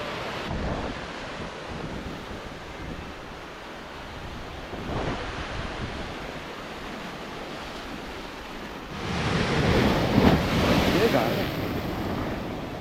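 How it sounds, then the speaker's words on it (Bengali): Sea waves at high tide on the beach of Mousuni Island, a continuous roar of surf mixed with wind buffeting the microphone, swelling louder toward the end as a bigger wave breaks close by. "আজকে এই ভরা কোটাল বলে কিন্তু বিশাল জল"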